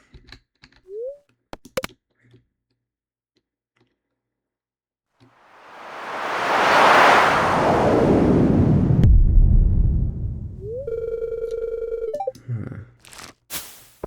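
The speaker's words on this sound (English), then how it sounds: "An explosion." An explosion in the video game Stardew Valley swells into a loud, broad rumbling burst lasting several seconds, set between short game clicks and chimes.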